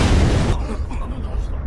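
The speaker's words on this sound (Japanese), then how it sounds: "爆発に備えて。" An anime explosion lets out a loud, broad blast that cuts off sharply and leaves a lower, rumbling tail with a few faint crackles.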